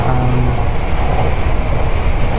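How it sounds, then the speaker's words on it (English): A Hong Kong train running on rails, a loud continuous rumble with steady wheel and track noise throughout, heard close by. "But here's a train."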